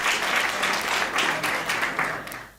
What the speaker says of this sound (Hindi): एक बार सदन ताली बजा के मुझे आशीर्वाद दें।